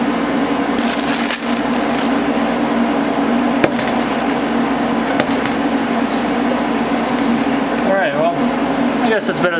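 A fan blows to cool a welding torch, making a steady loud whooshing hum with occasional knocks and clicks, while a person talks over it.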